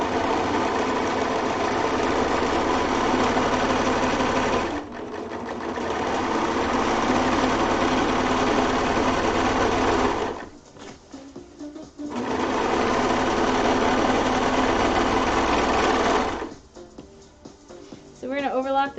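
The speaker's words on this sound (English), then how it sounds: "So we're going to overlock the top, not the bottom." An overlocker stitching along the top edge of a dress runs in a loud, fast, steady buzz for several seconds at a time, stopping twice in short pauses before starting again, with talking alongside.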